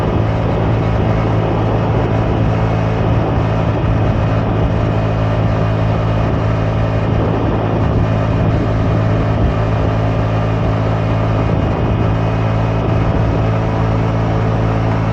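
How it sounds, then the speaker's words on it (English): A 2002 Honda Metropolitan II scooter with a Polini Hi Speed variator climbs a hill at full throttle, its small engine droning steadily and loudly throughout, with constant wind and road noise and no voices. "It's a lot for this scooter to make it up this hill."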